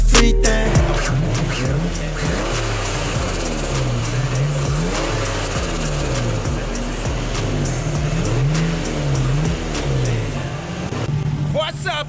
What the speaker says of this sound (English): today we're gonna show you around my 2003 Nissan 350Z